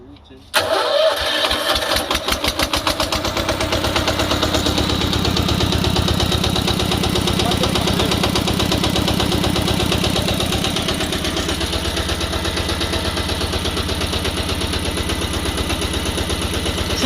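A walking tractor's small engine cranks on its starter motor and catches after a brief pause, then settles into a steady, loud, rattling idle that continues throughout.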